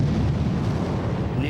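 Naval guns from nearly 200 ships, including battleships, cruisers and destroyers, bombard the Normandy coastline on D-Day as a dense, continuous low rumble of heavy blasts, loud and booming, with a voice speaking over it.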